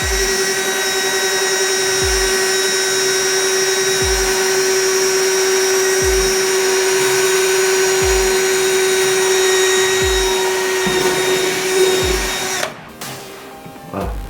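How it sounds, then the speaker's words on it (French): A power drill bores a hole at the end of a crack in a plastic car bumper. It whines steadily and loudly up close, with regular low knocks about every two seconds, then briefly roughens before stopping near the end. "je vais pouvoir effectuer un perçage"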